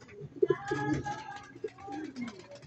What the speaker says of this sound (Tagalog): Dumating yung ibon natin, oh.